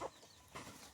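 A Silkie rooster gives soft, faint clucks outdoors in a farm garden, two short calls within about a second.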